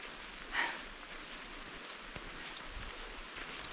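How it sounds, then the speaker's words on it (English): Steady rain patters on a surface outside a tent on a moody autumn day, a soft continuous hiss with a few louder drips and no talking. "It's raining."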